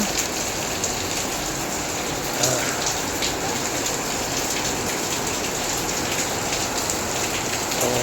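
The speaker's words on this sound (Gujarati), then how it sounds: "વરસાદના હિસાબે ભાઈ બધે અહીંયા પાણી પડવા મળ્યું છે" Steady rain pours down continuously in Surat, India, a dense hiss of drops striking surfaces nearby, with no voices.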